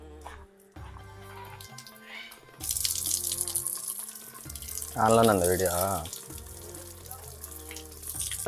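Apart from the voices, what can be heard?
water running from a tank tap for washing feet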